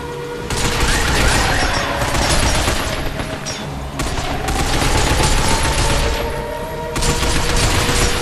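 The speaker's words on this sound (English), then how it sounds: "Stop them by shooting their legs." Gunfire in the video game Binary Domain as robots are shot, sustained rapid bursts of shots that keep going through the whole stretch with only brief lulls.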